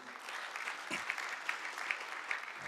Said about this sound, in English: big round of applause for Ajay ji